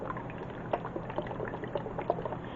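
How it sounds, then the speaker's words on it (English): Dressing pours from a shaken bottle onto a mini submarine sandwich: a soft, close liquid glugging and bubbling with small irregular splats over a couple of seconds, quiet and without talking. "So I'm just going to open up this and just pour just a little bit."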